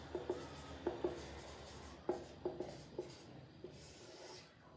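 Chalk or marker scratching out a word on a board during a food science lecture, a soft sequence of faint taps and short strokes in irregular rhythm, close and quiet, no talking.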